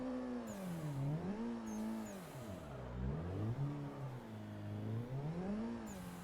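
Car engine in Assetto Corsa revving hard and continuously while drifting, pitch sweeping up and down with throttle and clutch kicks, loud and close with no talk.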